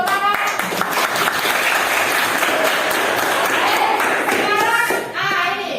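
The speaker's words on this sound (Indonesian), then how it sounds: "Terima kasih, tepuk tangan." A classroom of students applauding, close, busy clapping with a few small voices mixed in, continuing throughout before a slight dip near the end.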